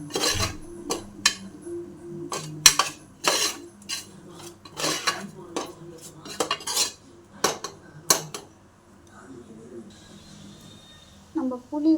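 Metal spoon scraping and clanking against a cooking pot while turmeric and spices are stirred, a run of sharp irregular clinks that fades to quiet near the end.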